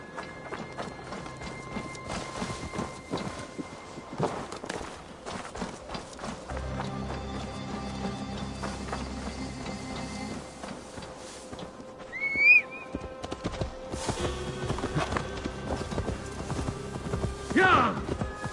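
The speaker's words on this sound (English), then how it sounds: "Now to deliver Magni his horse." Horse hooves clip-clop in the Assassin's Creed Valhalla video game, a steady run of hoofbeats under background game music, with a whinny and louder effects near the end.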